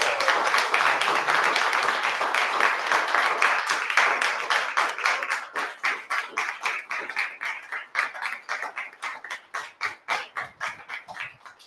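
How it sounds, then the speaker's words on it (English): A roomful of people at a Toastmasters meeting applauds the winner, dense clapping at first that thins into sparse, separate claps as it dies away over about twelve seconds. "give a big round of applause for the winner, Toastmaster Gautam Surishetty"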